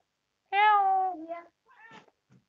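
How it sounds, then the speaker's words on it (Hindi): A single drawn-out cat meow, clear and close, followed by a couple of softer, shorter chirping mews trailing off. "म्याऊं, म्याऊं।"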